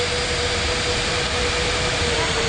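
A jet airliner spools up for takeoff in an air traffic control game at an airport control room, giving a steady, loud broadband engine roar with a faint constant tone that holds evenly throughout, with no voices.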